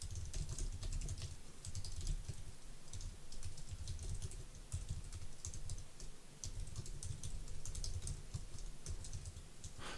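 Rapid typing on a computer keyboard, close and crisp, with bursts of quick keystrokes separated by brief pauses, no talk over it.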